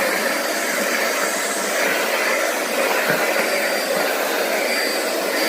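A Kent Duster 600W vacuum cleaner runs with its 2-in-1 crevice nozzle attached, giving a steady, loud, close airy whine and rush that stays even throughout with no talking.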